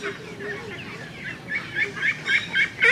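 A two-month-old duck's calls repeat in short rhythmic bursts, growing louder toward the end, close by against a faint background.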